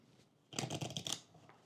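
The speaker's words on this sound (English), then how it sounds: "I am going to shuffle up my path deck" A deck of cards from the board game Earthborne Rangers being shuffled, a brief, soft riffle of rapid clicking flutters lasting under a second in a quiet room.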